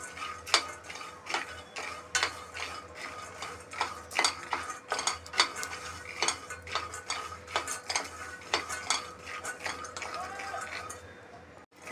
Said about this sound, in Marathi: अशा प्रकारे मी शेंगदाणे छानपैकी भाजून घेणार आहे